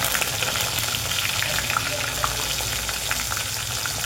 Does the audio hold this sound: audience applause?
no